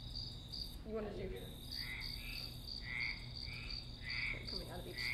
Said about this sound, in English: The other frog is out of both speakers, actually.